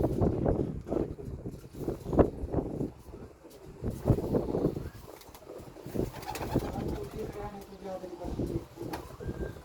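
Pigeons coo repeatedly in a loft of prize-winning racing pigeons, soft rounded calls rising and falling close by over a steady murmur of background noise.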